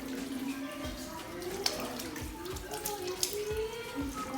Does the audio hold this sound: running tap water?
yes